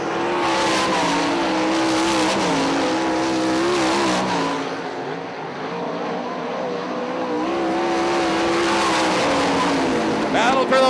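410 sprint cars roar around the Ionia Raceway Park oval, engines howling and rising and falling in pitch as they pass, with a brief dip midway and a commentator speaking over the racket.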